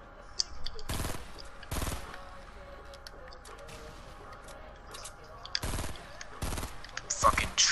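Gunfire in Fortnite, with several loud bursts of rapid shots at irregular intervals and a few faint clicks in between.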